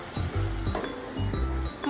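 Crushed ginger, garlic, coriander and chilli sizzle loudly in a hot pan, a steady crackling fry with a few sharp spurts and clinks of utensils, close and without talk.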